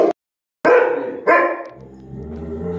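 A large black and white Bhotiya (Gaddi) dog gives three deep, loud barks close by, the first short and the next two spaced about half a second apart, each trailing into a low rumbling growl.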